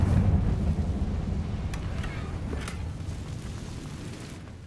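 A Confringo fire-blast spell explodes in Hogwarts Legacy, a loud low boom that opens the clip and rumbles off into a fading rumble over several seconds.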